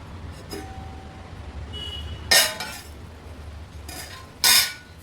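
A metal lid is set onto a cooking pot of tomato bhaji, giving two sharp clinks a couple of seconds apart, close and clear above a quiet background.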